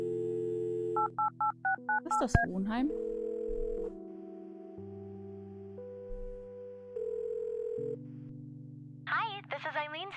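In the Kathy Rain adventure game, a phone is dialed with a quick run of tone beeps, then a steady dial tone and ringback hum plays. Someone speaks German briefly over the tones.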